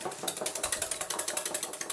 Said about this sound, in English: I'm just going to whisk it up.